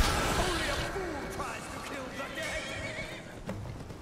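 A horse neighs and whinnies in the Skyrim Elysium Remastered video game, its cries fairly clear, with faint hoof clip-clops and game effects underneath.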